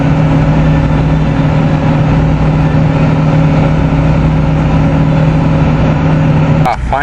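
A 6.9L diesel motorhome engine idling after a snowy cold start with the timing advance stuck on, a loud steady clattering drone with a strong low hum, one brief sharp noise near the end.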